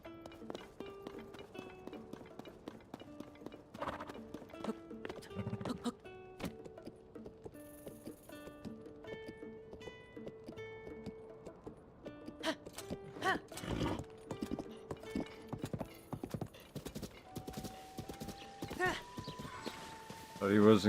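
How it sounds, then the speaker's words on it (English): Horse hooves clip-clopping at a walking pace on a ride through scenic countryside, a steady faint rhythm under music, with an occasional whinny and a voice talking. "The horse will automatically follow."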